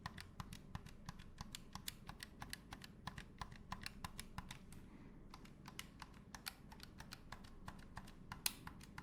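Sharp clicking of Ouya game controller buttons, a fast, steady run of crisp, close clicks pressed one after another without pause, over a low, soft background hum.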